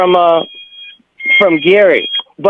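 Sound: home yard alarm going off

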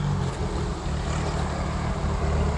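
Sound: airplane flying overhead near an airfield

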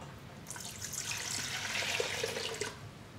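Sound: pouring warm water into bread dough mixing bowl

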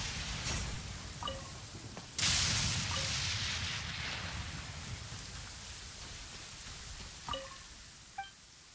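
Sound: rain in a video game

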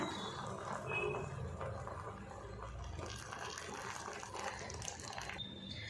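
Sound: hot milk being poured into semolina payasam

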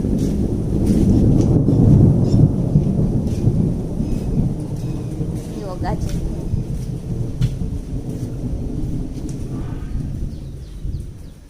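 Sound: thunder

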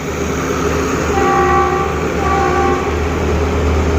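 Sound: train number 37 with locomotive at Pak Tho railway station

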